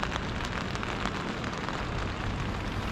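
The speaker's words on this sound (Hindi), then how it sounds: "तो देखो लगातार बारिश आ रही है आधे घंटे से" Heavy rain falls steadily outside at 4 am, a dense continuous hiss and patter with no other sounds over it.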